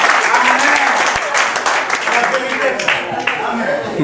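A congregation at a church evangelism service applauds and cheers loudly, a dense roar of clapping mixed with shouting voices and calls, sustained and close for the whole stretch.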